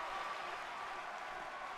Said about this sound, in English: as you can hear the crowd here